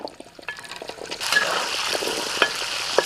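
Ingredients frying in a pan with a soft stirring scrape, the sizzle swelling louder about a third of the way in and then holding steady, close and unaccompanied by speech.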